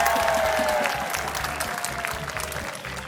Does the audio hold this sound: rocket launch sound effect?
no